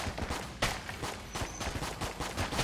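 The Patriot machine gun fires in Enter the Gungeon as a continuous, steady stream of rapid shots, loud and close throughout.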